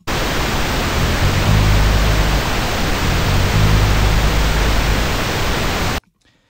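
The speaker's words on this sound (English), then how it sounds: "listen to it with the pink noise" Steady broadband hiss of pink noise, loud and unchanging, with a faint musical line beneath it, cutting off abruptly near the end.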